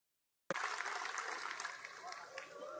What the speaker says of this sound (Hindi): एक बार जोरदार तालियां बजा के।